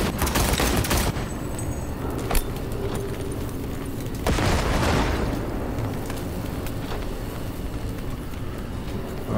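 Gunfire in the Cyberpunk 2077 video game, played on PS5, with rapid bursts of shots and sharp cracks over a steady roar of action that continues throughout.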